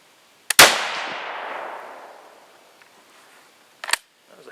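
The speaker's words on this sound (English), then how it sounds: "That was a hang fire." A delayed hang-fire rifle shot from Persian 7.92 Mauser ammunition at an outdoor range: a sharp click, then a loud close blast with a long fading echo, followed a few seconds later by another metallic clack of the action.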